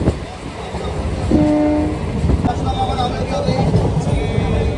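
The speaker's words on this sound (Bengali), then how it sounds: "এক এক করে বহু গন্তব্য পেরিয়ে এগিয়ে চলেছে আমাদের ট্রেন টাকি রোডের উদ্দেশ্যে" A local train on the Sealdah–Hasnabad line runs toward Taki Road with a loud, continuous rumble and rattle of the carriages. A sustained horn-like tone sounds partway through.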